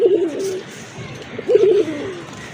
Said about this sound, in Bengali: টাকা ভাই একটা আমরা অন্য কবুতরের মাদি দিয়ে দেখাই, ওর ডাকটা দেখেন